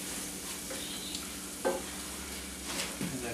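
Chopped sun-dried tomatoes and Kalamata olives being stirred into a pan of risotto. A soft, quiet simmer and stirring rustle continue with a couple of light spoon knocks.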